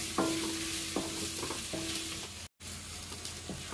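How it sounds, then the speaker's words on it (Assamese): Capsicum and onions fry in a pan with a soft, steady sizzle and occasional scrapes of a spatula, close but quiet, no talking, with a brief dropout partway through. "পিঁয়াজৰ লগতে মই একেলগে অলপ ফ্ৰাই কৰিম"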